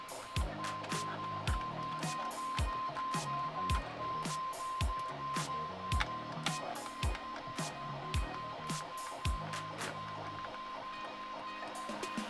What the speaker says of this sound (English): hopefully my 3D printer isn't too loud in the background